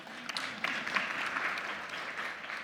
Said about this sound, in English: If you agree with me on that one, you clap